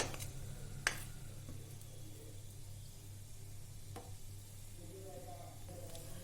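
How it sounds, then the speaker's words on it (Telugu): A curry leaf tempering for semiya pulihora, lightly fried in oil and stirred, gives a soft steady sizzle with a few light knocks of the spoon, quiet and close. "కొద్దిగా ఇవి లైట్గా వేగిన తర్వాత ఒక్కసారి జస్ట్ అలా కలుపుకుందాం"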